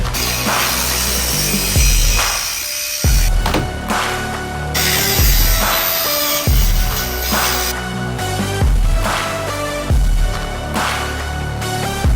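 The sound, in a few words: power tool cutting Jeep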